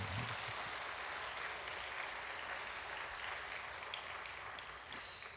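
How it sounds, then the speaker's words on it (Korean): Congregation applauding inside a church during a Sunday service for an engaged couple standing at their seats, a steady dense clapping that fills the room from start to finish without letting up. "다시 한번 축하의 박수"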